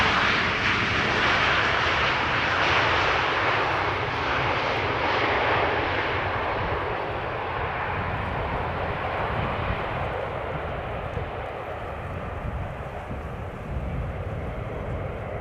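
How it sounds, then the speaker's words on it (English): A Transavia airliner arriving at Amsterdam Schiphol from Catania produces a loud, broad jet roar that is strongest at first and fades gradually as it passes, with no voices over it. "Transavia arriving from Catania"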